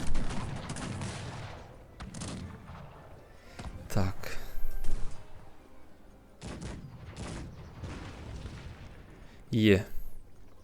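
Bursts of rapid gunfire and explosions in a battle in the game Cossacks 3, heard under ongoing talk, with louder shots near the middle and the end.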